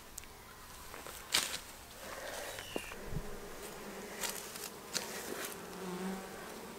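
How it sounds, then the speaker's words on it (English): Honey bees buzz around a hive during a beekeeping inspection outdoors, a faint continuous hum with scattered brief passes of individual bees flying close by. "We're going to get the bees ready for winter, and let's do a hive inspection."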